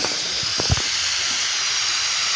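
Bele fish going into a hot pan with oil, a loud continuous sizzling hiss that holds steady throughout, with a brief soft clunk of the fish landing near the start.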